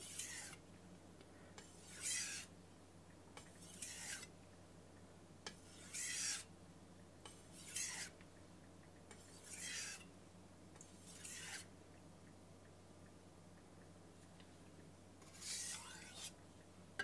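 A knife sharpened on a Suisin 6000-grit finishing whetstone, giving about nine short, soft, rasping strokes in a slow, even rhythm, close and quiet against a hushed room.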